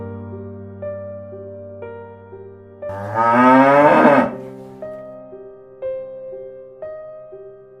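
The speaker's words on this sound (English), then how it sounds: "Cow." A single long, low cow moo rises and falls over gentle background music, loud and close against a light tune.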